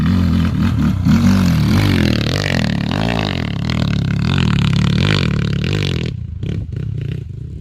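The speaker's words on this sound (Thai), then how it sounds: "บังลมร้อยยี่สิบห้าครับ" A 125cc step-through bike with leg shields revs hard on a forest enduro trail, running close and loud with its engine pitch rising and falling repeatedly before it drops away near the end.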